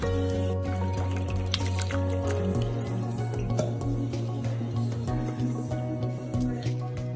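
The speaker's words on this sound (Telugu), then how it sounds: "ఇందులో కొన్ని కూల్ వాటర్ పోసుకొని రసం తీసుకుందాం" Cool water is poured into a pot of cooked tomatoes for rasam, giving a continuous close liquid fill with gurgling and dripping, backed by a low steady hum.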